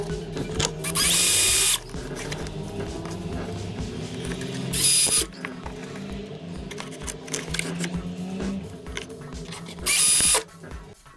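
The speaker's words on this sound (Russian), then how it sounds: "прикручиваем ее саморезами к подоконнику" Power screwdriver driving self-tapping screws to fix an L-profile strip to a windowsill, whirring in three short, loud bursts with handling noise and hum between them.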